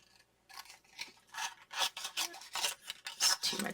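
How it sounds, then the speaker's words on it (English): Card stock trimmed with scissors for a handmade Christmas card: a quiet run of short, dry rasping snips and cuts that come in uneven bursts, close and soft, with no talking. "And now we're going to trim this out. All right. So let me trim it."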